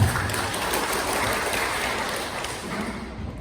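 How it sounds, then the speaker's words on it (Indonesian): Applause from an audience at a regional government technical briefing and decree handover in Blitar Regency, Indonesia; a steady, dense wash of clapping fills the whole stretch at moderate level, easing slightly toward the end. "tepuk tangan untuk Kabupaten Blitar"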